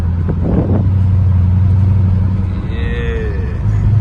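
A straight-piped 5.7 HEMI V8 drones loud and low from inside the cabin while cruising in traffic, a steady deep rumble with brief swells and faint voices in the background.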